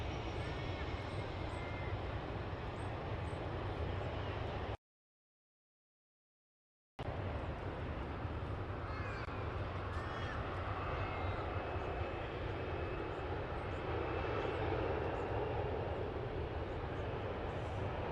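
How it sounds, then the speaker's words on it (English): A Singapore Airlines jet takes off at Sydney Airport, a steady broad engine roar heard from a distance that holds level and swells slightly near the end, broken by a short gap of silence partway through. "That was a nice takeoff by Singapore there."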